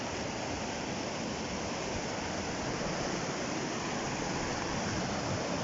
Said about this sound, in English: That's the river going down there.